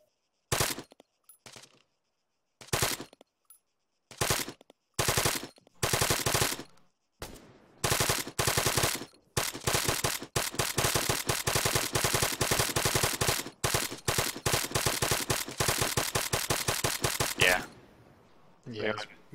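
Gunfire in the video game Arma 3: loud, close bursts and single shots at first, then a long stretch of rapid automatic fire that stops near the end.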